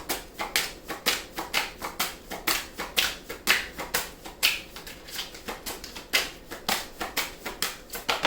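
Tarot cards being drawn and handled at a full moon reading make a fast, steady run of close crisp snaps and flicks, like shuffling or riffling.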